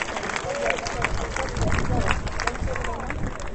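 A crowd at a Nuit Debout protest rally and intersyndical march in Bordeaux applauds, with brisk, dense clapping at a moderate level that runs throughout, mixed with crowd noise and voices.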